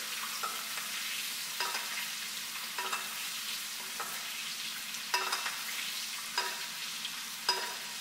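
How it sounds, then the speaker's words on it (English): Steak in a pan being basted with hot butter and fat, a continuous close sizzle punctuated by regular spoon scrapes and taps against the pan every second or so. "start basting your steak with the hot butter and fat"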